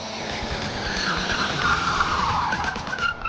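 A 1970 Lincoln Mark III with a 365-horsepower engine speeds along with its tires skidding, a sustained, dense roar and screech that fills the whole stretch at steady loudness.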